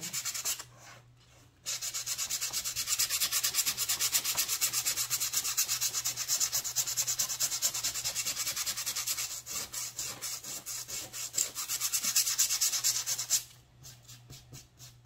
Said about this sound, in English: let's grab that sandpaper, wherever I put it, and give this a quick sand